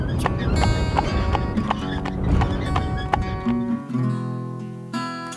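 A Castillonnais horse's hooves clop in a regular rhythm on a dressage arena, close and steady under music and a talking voice, with a short neigh-like tone toward the end.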